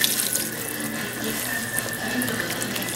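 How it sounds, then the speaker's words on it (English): About two cups of red wine pour steadily into a pot for a braised short rib stew, a continuous close splashing liquid stream without a break. "I'm gonna add about 2 cups of red wine."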